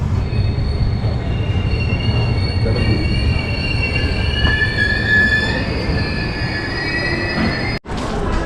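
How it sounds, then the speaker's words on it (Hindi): Gorakhpur–Mailani Express with LHB coaches at Mailani station, a steady loud rumble of rolling rail cars with high metallic wheel squeal running throughout and a brief dropout near the end. "तो ट्रेन अपनी मैलानी स्टेशन पे आ चुकी है। यहीं पे इस ट्रेन का टर्मिनेशन है।"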